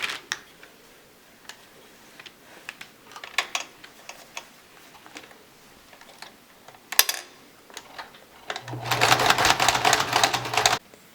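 Sewing machine stitching folded fabric for the ear loops of a face mask, a burst of rapid loud mechanical whirring near the end, preceded by scattered soft clicks and fabric handling.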